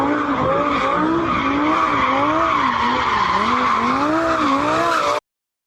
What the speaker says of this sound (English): this clip of video shows them driving their expensive Lamborghinis around the Moscow Inner Ring Road and then the Moscow State University